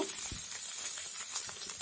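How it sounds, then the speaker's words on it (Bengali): Cauliflower frying in a pan with potatoes, giving a steady close sizzle with faint stirring and scraping clicks throughout, no voices. "দেখুন ফুলকপিটা আমার আর ভাজা হয়ে আসছে আর অল্প একটু ভেজে নামিয়ে দিব"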